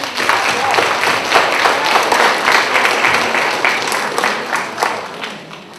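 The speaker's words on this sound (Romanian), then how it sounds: "Chiar merită să fiți aplaudate." An audience at a Day of Persons with Disabilities event gives a round of dense, sustained applause with many hands clapping. The clapping is loud and close and fades slightly toward the end.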